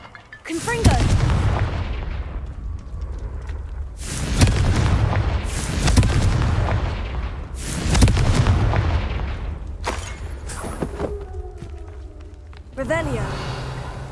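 Repeated Confringo fire-spell blasts in the Hogwarts Legacy video game: four loud booming explosions with rumbling tails a few seconds apart, mixed with game voices and effects.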